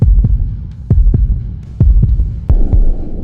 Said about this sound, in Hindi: आरव की धड़कन तेज